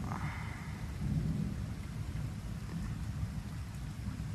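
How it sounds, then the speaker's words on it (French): An evening thunderstorm in Metz, with steady rain pouring down and a low rumble of thunder rolling underneath throughout. "La pluie se calme un peu."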